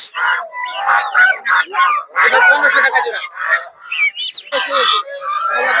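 Royal ducks, a kind of goose, honk repeatedly at a busy Golakandail livestock market, with loud overlapping nasal calls in irregular bursts close by and people talking throughout.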